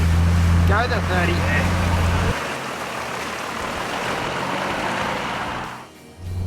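A 4WD pushes through deep water in Cape York, with a loud broad wash of surging water and engine rumble close by. A short spoken call comes early, and the engine drone drops away partway through.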